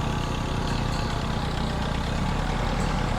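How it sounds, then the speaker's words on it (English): A tractor engine ploughs a field in a steady, loud, continuous drone with a low throbbing rumble and no pauses. "the guy with the tractor has come to give a helping hand"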